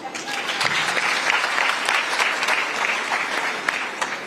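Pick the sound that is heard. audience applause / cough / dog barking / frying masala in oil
audience applause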